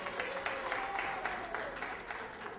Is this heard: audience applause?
yes